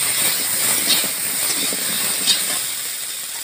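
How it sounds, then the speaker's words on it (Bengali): Hog plums (amra) sizzling steadily in hot oil in a pan while being sautéed for a crab curry, a continuous bright hiss with faint crackles, close and alone. "এবার আমড়াগুলো দিয়ে দেবো। আমড়াগুলোকে ভালোভাবে কষতে হবে তেলে।"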